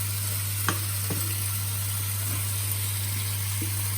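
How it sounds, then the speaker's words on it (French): Potatoes fry and caramelize in their marinade in a pan, a steady, even sizzle with a low hum underneath and a few faint clicks from stirring. "on va laisser cuire et caraméliser ces pommes de terre dans leur marinade"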